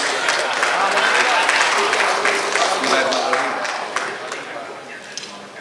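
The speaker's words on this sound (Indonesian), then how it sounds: "Boleh Bapak Ibu sambil memberikan tepuk tangannya" Audience applause fills a council chamber in Malang after the mayor signs the minutes of the 2024 budget accountability regulation, steady dense clapping that gradually thins out toward the end.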